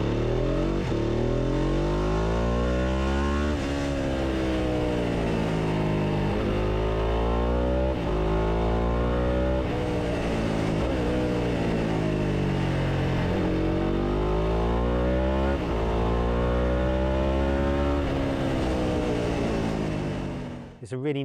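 A Ducati 749R V-twin sport motorcycle engine revs and pulls hard through the gears, a loud, close throbbing roar rising in pitch, dropping at each shift and climbing again, before cutting off.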